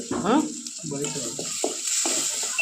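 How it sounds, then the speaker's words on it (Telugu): Onions frying in a thick pot for a chicken soup, a steady close sizzle with stirring scrapes and occasional clinks, under a voice that talks at the start and then breaks in briefly in short bursts. "దీంట్లోనే ఆనియన్స్ వేసేసిన"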